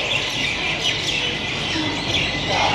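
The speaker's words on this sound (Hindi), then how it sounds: "बहुत सारी चिड़िया चहचहा रही हैं" Many birds chirp and tweet continuously on an evening at Ujjain railway station, a dense, fairly loud chorus of overlapping calls filling the whole stretch with no pause.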